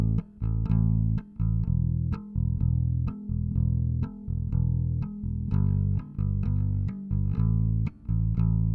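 A bass guitar recorded direct input, playing a busy line of plucked notes with short gaps between phrases, clean and close, no voices.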